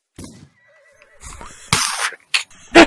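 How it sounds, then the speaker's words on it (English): A horse in the video game Rising World neighs and whinnies in a few loud, close bursts after a quiet stretch with faint tonal game sounds. "Hey, look, more horses."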